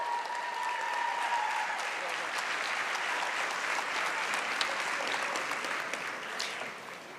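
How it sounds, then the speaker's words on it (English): A banquet audience at a USW academic and athletics awards night applauds steadily for Frankie Martinez, with a sustained wash of clapping from many hands across the hall, fading slightly at the end. "Let's give a round of applause to Frankie Martinez."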